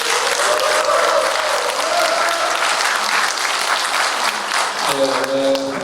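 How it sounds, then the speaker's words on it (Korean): Sustained applause from an audience at a local election candidates' debate in Hongcheon County, dense and steady throughout, with a voice briefly rising above the clapping near the end. "신영주 후보께 다시 한번 큰 격려의 박수 부탁드립니다"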